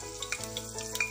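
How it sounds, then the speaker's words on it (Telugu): Slit green chilies frying in hot ghee in a pan, a steady close sizzle with small crackles and pops over about a second, with no voices. "నెయ్యి వేడి అయ్యాక పచ్చిమిరపకాయలు, పొడవుగా చీరుకున్న పచ్చిమిరపకాయలు"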